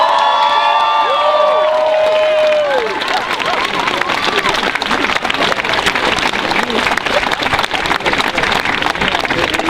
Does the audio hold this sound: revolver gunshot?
no